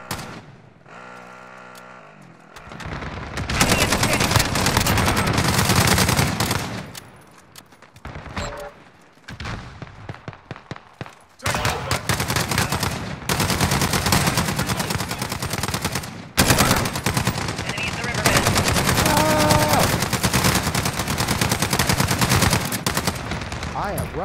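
Sustained automatic gunfire from the video game Modern Warfare, loud bursts and rapid volleys that go on for most of the stretch with short gaps, plus faint game sounds and some voice underneath.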